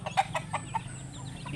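A hen with sixteen chicks clucking in a short series of soft, quick calls over low background noise, fairly close by.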